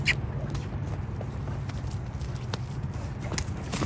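A horse canters on dirt, hooves beating in a steady rhythmic clip-clop at moderate distance, with faint voices in the background.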